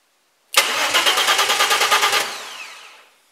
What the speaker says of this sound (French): La lumière s'allume et le démarreur tourne. Bon, forcément, elle démarre pas, hein.